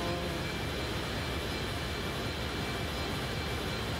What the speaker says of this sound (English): We're on a plane